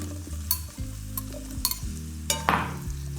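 Mushrooms sizzle in rendered bacon fat as a spoon stirs them around the pan, with a steady fry broken by several sharp scraping strokes, close and fairly quiet, no talk.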